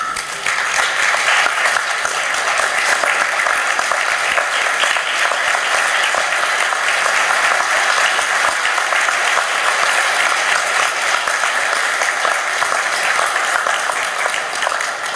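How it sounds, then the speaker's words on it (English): An audience gives a steady, dense round of applause at a university Faculty of Medicine and Health graduation ceremony, loud and continuous throughout with no talking. "could you be on your feet and thank them in the usual manner with a round of"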